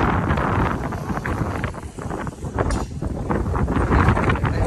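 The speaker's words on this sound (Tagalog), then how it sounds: "Sobrang hangin." Strong wind gusts hit the microphone in a loud, continuous rumbling buffet outdoors in a residential subdivision, with no talking.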